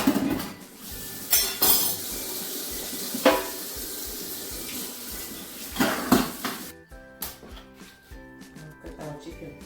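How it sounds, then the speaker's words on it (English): Warm tap water runs in a kitchen sink as chicken with burned-off skin is washed, with repeated clinks and clatters of dishes and utensils in bursts over the flowing water and no speech. "I'm just going to wash it with warm water."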